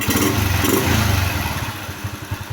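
A motorcycle engine fitted with aftermarket cams, carburetor, valve springs and CDI runs close by with a steady rapid pulsing and light mechanical ticking, loud and alone.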